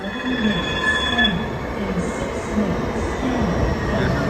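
Steady rumble of a train rolling into a station, with metallic wheel squeals rising and falling over continuous track noise.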